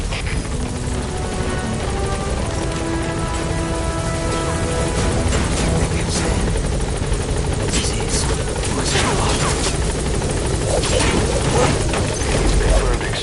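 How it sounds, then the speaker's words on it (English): A helicopter extraction in Metal Gear Solid 5 roars steadily and loudly throughout, with rotor thumping over game effects, scattered crashes and occasional voice dialogue. "Get him out by chopper."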